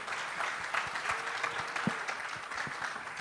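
Audience applause at a lighthearted awards ceremony, a steady wash of many hands clapping at moderate level for a few seconds with no speech over it.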